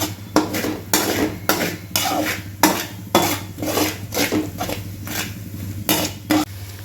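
A utensil scrapes and clanks against a pan in a steady, repeated stirring rhythm as ginger and garlic paste is sautéed for chicken gravy, with a low background hum and no talking.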